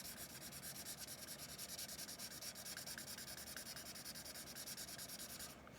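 Colored pencil rubbed back and forth across a card to blend and smooth the color, a soft, even scratchy rasp repeating in quick regular strokes, close and steady throughout.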